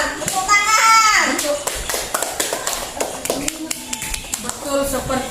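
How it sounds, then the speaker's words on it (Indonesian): A group of children clapping in a classroom, a burst of quick patterned claps, near and loud, with a voice calling out over them at the start. "Tepuk tangan."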